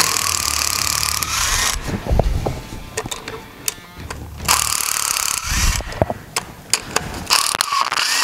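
Head bolts being loosened on a junkyard LS engine during a teardown for a 1970 Camaro swap: a close ratchet clicking in bursts, with metallic creaks and scraping between the pulls and sharp knocks near the end.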